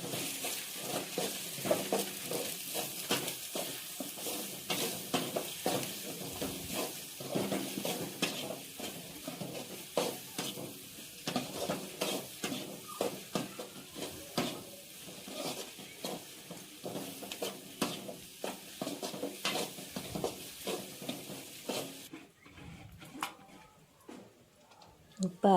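Egg and vegetable mixture with chaat masala being stirred in a bowl, a steady run of soft scraping and clinking strokes close by that stop near the end, with someone talking over it.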